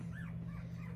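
A puppy fusses with soft, whiny whimpers and small yips, three rising cries over a steady low hum, close by.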